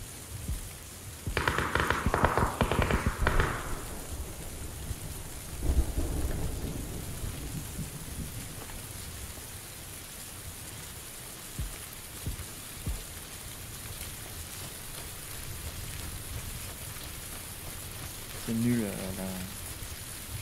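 Steady rain falls throughout in PUBG while loud thunder rumbles early on, followed by a softer roll of thunder; faint voice-like sounds appear briefly near the end.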